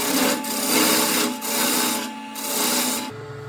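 A wooden seed reservoir is cut down with a hand tool in steady back-and-forth rasping strokes, three or four long passes that sound close and moderately loud, with no talking.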